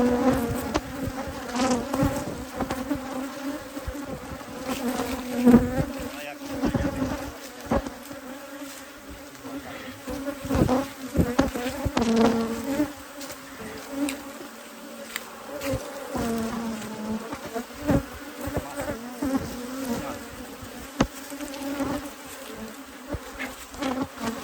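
Bees buzz around hives being reinforced with new honey supers at the end of summer, a dense, steady drone with individual insects swelling louder as they pass close, without speech.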